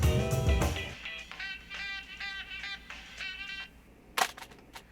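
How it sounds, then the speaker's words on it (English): Sound effects of a hand smacking a plastic phone and the phone crashing to the floor: a loud thud at the start, a brief clatter, then a sharp impact near the end, with faint tonal effects between. "those sounds of her hand hitting the phone and the phone hitting the ground, those were sound effects too"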